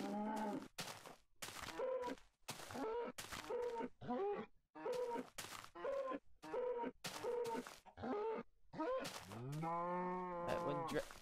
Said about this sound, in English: We have a cow.